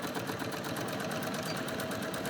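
A sewing machine stitching a sleeve lining seam runs steadily and close, a continuous even whirring hum with rapid needle pulses and no talking.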